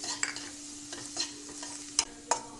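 Onion and bell pepper are stirred in a pan on the stove, giving a faint, soft sizzle. A few light scraping stirs come through, with sharper clinks of a utensil near the end.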